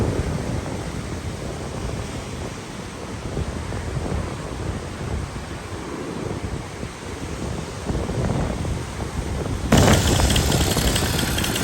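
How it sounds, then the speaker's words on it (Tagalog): Strong wind at Sabang beach in Baler, Aurora roars and buffets the microphone continuously, rumbling and gusting, growing harsher and louder toward the end. "Grabe ang lakas ng hangin, guys."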